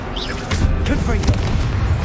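Confringo blasting curse from Hogwarts Legacy bursting in a loud, dense game explosion with rumbling low booms and crackle, a spoken voice briefly over the blast.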